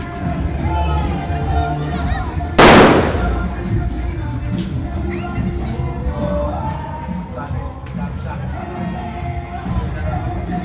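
A single sharp firework blast cracks out close by amid a noisy New Year's crowd, followed by lingering outdoor chatter and background commotion.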